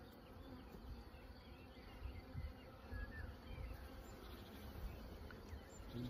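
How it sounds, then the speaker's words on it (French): A dense, low drone of many honeybees buzzing at close range at an open hive, steady and continuous, with faint higher chirps in the background. "les abeilles."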